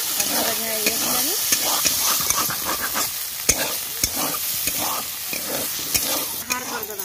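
Okra in a village kitchen pan being stirred as it fries, a steady sizzle broken by repeated scraping and stirring strokes throughout, with a faint voice briefly in the background.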